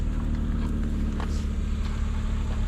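A 2000 Subaru Impreza engine idles steadily, a continuous low rumble with a faint hum on top and no variation across the short stretch.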